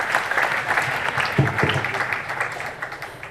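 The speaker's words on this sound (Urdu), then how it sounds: "آپ سب لوگوں کی بھرپور تالیاں" Enthusiastic applause from an audience at a human rights day gathering in Youhanabad, Lahore, steady clapping filling the whole stretch with a couple of sharper bursts midway.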